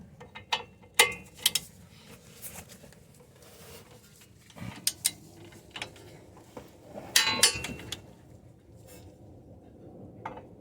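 A torque wrench tightens caliper and suspension bolts on a Honda Odyssey during a passenger-side CV axle replacement, giving scattered ratcheting clicks and metallic clanks at close range over a quiet background.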